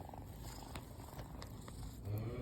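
A cat purring right up close, a soft continuous rumbling drone that stays steady and faint throughout, with no talking.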